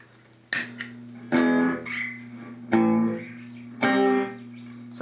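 Guitar through an Outlaw Quick Draw delay pedal with the timing knob turned down, each strummed chord ringing out with short, closely spaced repeats that smear into a reverb-like wash, four chords in a slow steady sequence.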